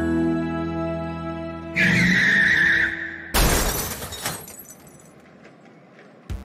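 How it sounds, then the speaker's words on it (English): A car skids with a sustained tire squeal, then crashes with a loud burst of breaking and shattering glass, followed by a few fading clatters of debris. "Oh no, we are gonna crash."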